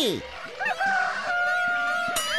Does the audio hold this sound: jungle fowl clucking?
yes